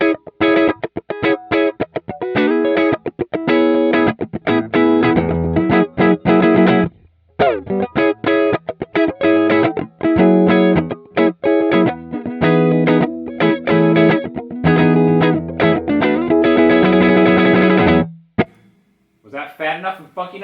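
An electric guitar plays through a Fat Funky Dry Valve amp-sim preset with a crunchy, distorted tone. Busy rhythmic chords and riffs run loud and up close for most of the clip, then stop near the end with a brief sustained note.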